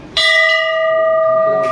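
A single loud strike of a large temple bell rings out clearly, its bright tone sustaining and slowly fading, with a voice or another sound starting at the end.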